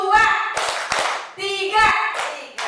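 A group of primary school teachers and staff claps in a counted rhythm pattern, bursts of claps interleaved with a leader's spoken counts, close and fairly loud.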